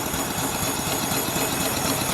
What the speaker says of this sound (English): As long as you're running coal, it'll really keep this pressure up, even though you're running the engine.